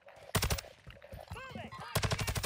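Rapid automatic gunfire in the Warzone video game, two sharp close bursts at either end with quieter game sounds and a brief voice between them.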